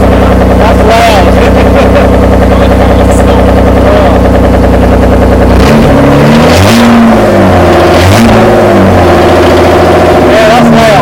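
A Toyota MR2 with a V6 and straight-piped quad exhaust idles with a deep steady drone, then revs loudly in several rising bursts, close and harsh, with voices talking faintly beneath.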